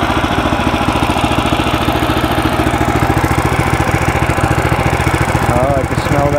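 DK2 stump grinder's small engine running with its cutting wheel spinning, a loud, close, steady rapid putter with a constant beat throughout.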